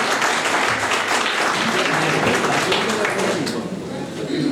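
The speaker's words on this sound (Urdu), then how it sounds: "بھرپور تالیاں بجائیے سر کے لیے" An audience at a poetry gathering applauds, a full, continuous burst of many hands clapping that holds steady and then begins to thin out near the end, with a voice speaking over it.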